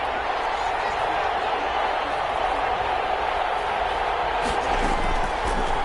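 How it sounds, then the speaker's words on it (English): Stadium crowd in a football video game keeps up a steady roar through a tense third-down moment, a dense wall of noise with a few sharper bursts near the end. "The crowd getting into it as we come up on a big 3rd down."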